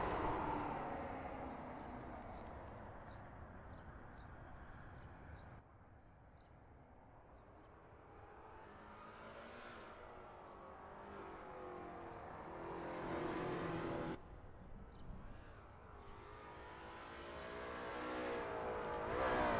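A Lola T70 MkII Spyder race car engine on a practice out lap at Brands Hatch GP in a racing video game, a loud steady roar that climbs in pitch through repeated accelerations, with abrupt gear-change drops between rising sweeps.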